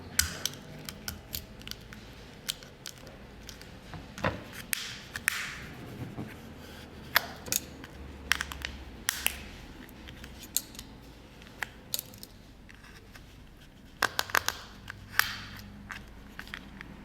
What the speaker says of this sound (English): It'd be really hard to pull this mould out of this cup, so I'm actually going to cut it down the side.